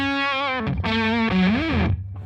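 Dry electric guitar through a DigiTech distortion with no reverb, heavily distorted notes played in a few short phrases, one with a bent pitch, each cutting off cleanly.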